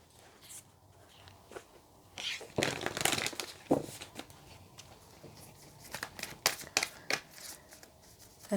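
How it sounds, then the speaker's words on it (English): Tarot cards from a Le Vampires deck being shuffled by hand, a quiet run of soft riffling, crinkly rustles and taps in irregular bursts, building to a denser flurry midway before trailing off into scattered shuffles. "I've had trouble shuffling this particular deck all week"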